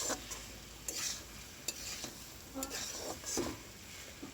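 Chicken curry is stirred in a pan, with soft, repeated scraping strokes and a low sizzle, heard faintly and close up.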